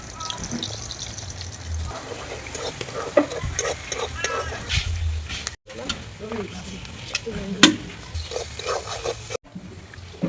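Onions sizzling in hot oil in a pan for chicken biryani, a steady frying hiss with stirring scrapes and a few louder clatters, heard close and alone.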